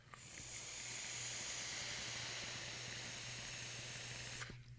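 A rebuildable dripping atomizer vape hisses steadily for several seconds during a drag, a soft continuous sizzle and crackle that cuts off abruptly at the end, with no talk.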